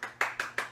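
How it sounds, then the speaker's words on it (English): Four sharp hand claps in a quick, fairly even rhythm, close and clear, with no talking. "There's the hand of applause."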